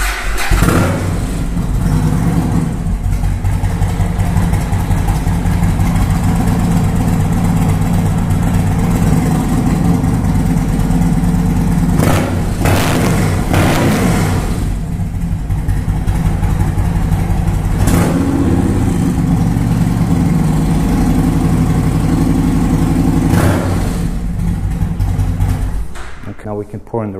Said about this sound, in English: And what we're gonna do is we're gonna start the bike.